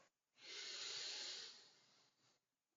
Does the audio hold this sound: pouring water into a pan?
no